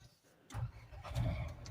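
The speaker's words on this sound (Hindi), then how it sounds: "चलिए गाड़ी को स्टार्ट करते हैं" A Renault Triber car engine cranks and catches, settling into a low, steady idle rumble heard close up from inside the car.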